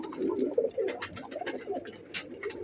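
A short stretch of flying pigeons cooing in low, burbling calls, quiet and close together, over a faint background hiss.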